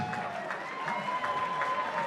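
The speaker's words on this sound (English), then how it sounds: "a big round of applause for both tough ladies in the cage" A crowd at a women's cage fight applauds after the bout, with soft sustained clapping and some murmur over a steady hum, fairly distant and even.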